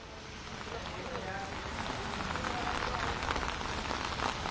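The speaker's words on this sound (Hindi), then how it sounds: "जयपुर शहर के अंदर अब वो बारिश का दौर है वो शुरू हो चुका है" Monsoon rain falls steadily across Jaipur, a dense, even hiss of drops that holds at an unbroken, moderate level throughout.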